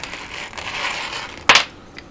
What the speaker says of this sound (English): what I'm going to do is wind it from the back